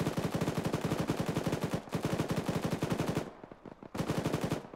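Rapid automatic gunfire in a military video game, with long even bursts of tightly spaced shots, loud and close, separated by short pauses and ending with another burst.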